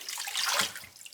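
Water from washed kale leaves drains through a strainer into a bowl, a brief close splashing trickle that swells and then tapers within about a second.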